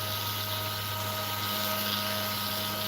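A small rotary drill runs steadily while boring into a half eternity ring for stone setting, producing a continuous, even whine with a constant motor hum and no voices.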